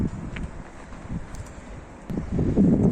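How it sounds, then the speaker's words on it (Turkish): Strong wind buffets the microphone in low rumbling gusts, swelling louder toward the end, with no voices. "Rüzgar yine şiddetleniyor dostlar."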